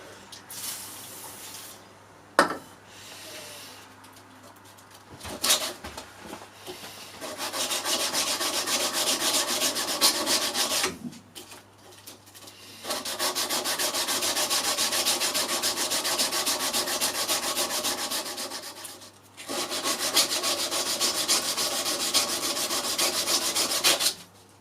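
Grinding to flatten the taper of a knife blade, three long, loud, steady abrasive passes separated by short quiet gaps, with a few clicks and knocks between them.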